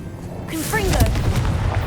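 A Confringo blasting spell in Hogwarts Legacy goes off as a single loud whooshing burst that swells into a sustained rumbling explosion, with a voice calling out just before.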